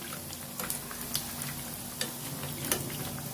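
Eggplant fritters (beguni) fry in oil over medium heat with a soft, steady sizzle, broken by a few faint clicks and taps as they are turned in the pan; quiet and close, with no talking.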